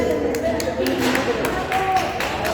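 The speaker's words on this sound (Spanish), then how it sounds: "Vamos a darle un aplauso aquí a nuestra compañera Dulce, maestra, digo." A small group at an evening Bible study class applauds their teacher with scattered, distinct hand claps over chatter and talking.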